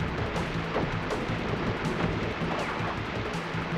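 Rain in a level of the video game Crash Bandicoot 2: Cortex Strikes Back, a steady hissing downpour mixed with low rumbling game ambience and faint repeating tones, moderately loud and continuous.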